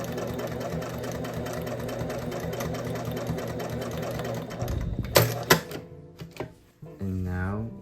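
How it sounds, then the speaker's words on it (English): A sewing machine runs steadily along a pressed denim jeans hem, a continuous close mechanical whir that stops after about five seconds, followed by a few clicks and handling noises. "Just sew along this edge all the way down."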